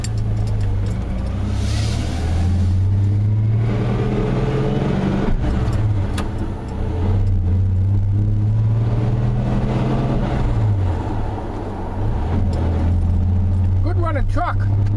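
A 1991 Dodge Dakota pickup drones steadily and loudly up close, with a low, grinding mechanical hum rising and falling beneath it as the drivetrain labors against a binding clutch throwout bearing.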